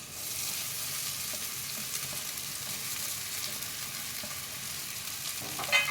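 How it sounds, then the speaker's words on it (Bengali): Flattened rice (poha) tossed with turmeric, salt and sugar and stirred in a pan: a soft, continuous sizzle with faint scraping, quiet and close. "এবারে আমি এটাকে নাড়াচাড়া করে নেব"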